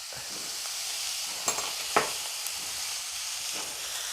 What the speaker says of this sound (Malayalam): ഇനി ഇത് നന്നായിട്ട് വഴരട്ടെ